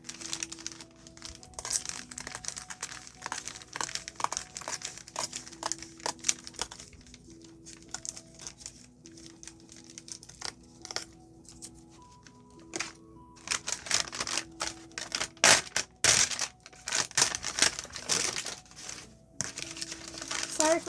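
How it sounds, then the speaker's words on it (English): Sheets of paper rattle and crinkle while signatures for a handmade botanical journal are folded and worked, crisp irregular rustling that goes on throughout and grows busier and louder toward the end. "But I think some of you like the rattling sound of paper."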